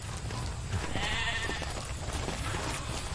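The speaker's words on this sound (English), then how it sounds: "A small flock of sheep grazes on the scrubland grass." Sheep in a small flock grazing on scrubland grass in the video game Beautiful Desolation bleat over a dense ambient soundscape, with a wavering bleat standing out in the middle.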